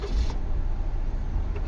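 A Japan surplus Suzuki Hustler, converted for local use, idles with a steady low engine rumble close by, a brief higher whine at the start.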